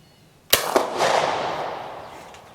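A single loud rifle shot from an 1888/90 Mannlicher firing cast bullets outdoors, a sharp crack with a quick second report, followed by a long rolling echo that fades over two seconds.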